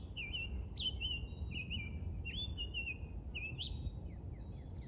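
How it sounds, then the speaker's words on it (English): A summer tanager sings a series of short, clear, whistled phrases, repeated at a steady pace over a low background rumble. "mostly what we're hearing is this musical song of the summer tanager"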